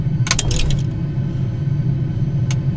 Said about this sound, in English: all you're going to hear is a load of clicking